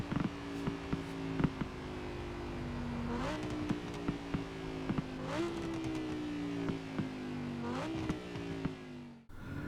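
An Audi R8 V10 in Forza Horizon 4 drones steadily through its gears, with the engine note rising and dropping at each shift and short crackles and pops from the exhaust, sustained and fairly close.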